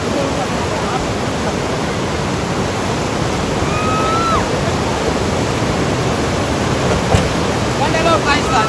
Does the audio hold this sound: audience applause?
no